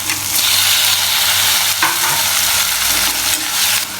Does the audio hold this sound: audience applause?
no